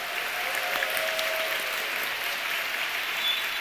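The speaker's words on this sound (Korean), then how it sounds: "우리 목사님 나오실 때 우리 함성과 박수로 환영하도록 하겠습니다" A church congregation claps loudly and steadily, a dense continuous wash of applause with some cheering, filling the hall as the pastor comes out to speak at a prayer service.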